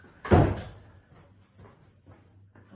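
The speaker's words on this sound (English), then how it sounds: "I'm just going to close this door" A door swings shut indoors with one firm thud, followed by faint rustling and soft movement in a quiet room.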